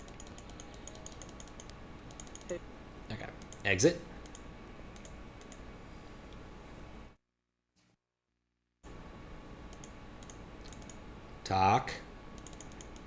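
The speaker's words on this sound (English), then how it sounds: "You can hear me clicking as fast as I can." Rapid clicking while skipping through scenes of The Beast Within: A Gabriel Knight Mystery, with quick bursts of keyboard-like clicks under intermittent talk and a brief silent gap.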